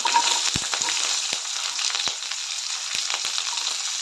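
Green chilies, curry leaves and sliced onion sauté in hot oil in a kadhai with a loud continuous sizzle, punctuated by a few brief scraping stirs of a spoon.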